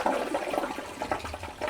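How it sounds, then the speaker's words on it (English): A household toilet being flushed during cleaning, a steady gurgling rush of water close by, running throughout without any talk. "And then give it a flush."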